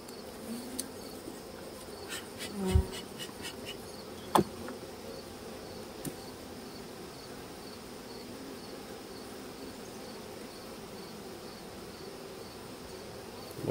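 Honey bees swarm around an open hive during a hive split, giving a steady, moderately loud droning buzz throughout, broken by a few sharp knocks and clicks from the hive equipment.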